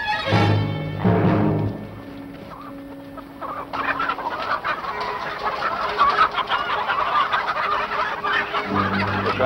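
Chickens cluck and a rooster calls near a barn, loud strident squawks at first, then a busier stretch of overlapping clucks and rustling continuing to the end.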